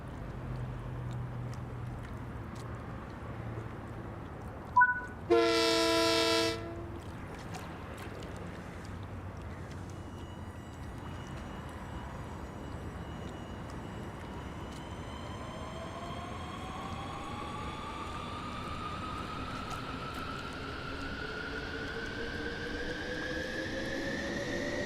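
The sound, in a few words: LIRR commuter train departing in video game Train Sim World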